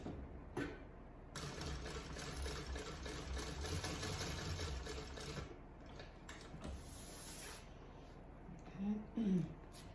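A home sewing machine stitching the lining of a small bucket bag, running in a steady, continuous mechanical whir close by for most of the stretch, with a short pause and a faint voice near the end.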